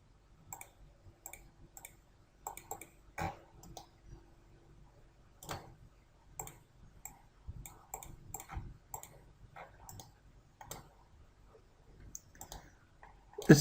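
Mouse clicks during a CATIA software tutorial, a long run of sharp, close single and double clicks scattered irregularly over a quiet background, with no one talking.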